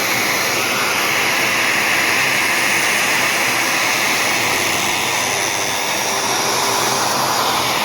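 An Ultima Legacy Incredible Edger grinds a figure skate blade with a continuous loud, hissing, whirring rasp that holds steady throughout, close by and without talk.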